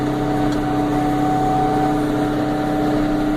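A used John Deere tractor engine running steadily in a farm field, a constant hum with a slight whine, unchanging and moderately loud throughout, no voices.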